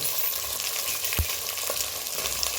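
Green beans, carrots and a little coriander sautéing in a pan for upma: a brief, close, steady frying sizzle with a sharp stir or clank partway through, and no voices.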